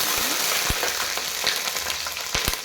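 Oil sizzles steadily in a pan while fish curry is being cooked, a continuous close crackle broken by a few sharp clicks of a utensil stirring against the pan.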